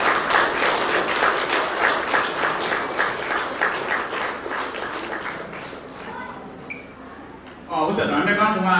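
Guests at a Nepali Christian wedding break into sustained applause, a dense, even patter of many hands that fades out toward the end before a voice speaks over the room.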